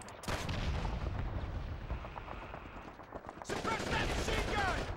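Dense machine gun fire and explosions from the World War II shooter Call of Duty 2: Big Red One, loud and continuous with rapid bursts and booming impacts, and voices shouting faintly in the mix.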